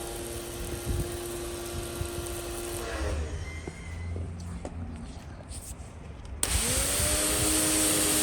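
A Gerni 3300 high pressure washer runs with a steady motor drone that cuts out midway and restarts loudly near the end, while a voice talks between the running stretches.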